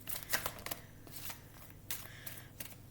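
Tarot cards being shuffled close up, a few quick riffling bursts separated by short pauses, with no talking.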